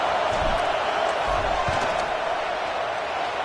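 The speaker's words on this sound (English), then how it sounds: "This crowd trying to do its part to get inside the kicker's head" Large college football stadium crowd roaring during a Texas versus Tennessee field goal attempt, a dense, steady wall of cheering and noise with a few dull thuds beneath it.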